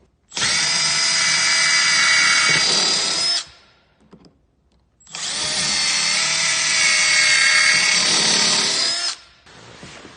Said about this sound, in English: pre-drill your holes before you put the screws in